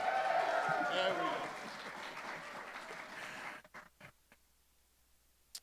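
A conference audience at an economic development event gives a panel a round of applause that swells loudly, then tapers off into a few scattered claps, with talking mixed in during the clapping.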